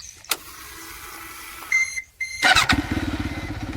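A Hero Xtreme 125R Dual ABS motorcycle starting: electronic beeps and a whirring starter, then the single-cylinder engine catches and settles into a close, steady, pulsing idle.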